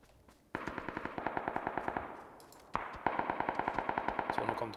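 Automatic rifle fire in the battle game PUBG: Battlegrounds near a bridge, two sustained bursts of rapid, evenly spaced shots with a short pause between them, loud and close.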